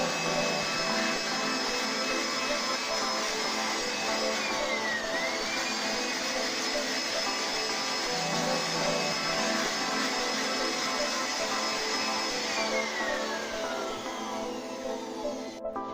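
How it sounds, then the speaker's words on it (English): A dry air blower whines continuously while cleaning a fire alarm detector head, a steady, fairly loud mechanical hum whose pitch dips and recovers a few times. "Clean the detector head with dry air blower carefully."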